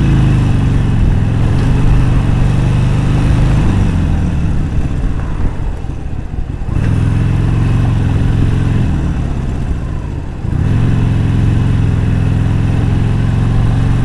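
A motorcycle engine pulls in second gear up a steep, curvy Laurel Canyon road in Los Angeles, a loud, steady drone that sags briefly twice before resuming at full strength.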